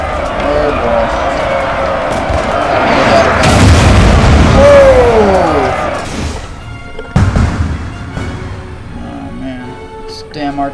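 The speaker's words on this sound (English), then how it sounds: "Damn artillery." Artillery fire in a Napoleonic battle video game, with deep booms and rumbling crashes swelling mid-clip over continuous battle noise, then a sharp blast later, while someone talks over it.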